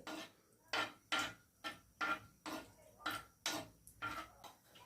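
Small candles melt in a pan as a homemade cracked-heel cream is prepared, with about ten steady, rhythmic stirring scrapes of a utensil against the pan, quiet and close.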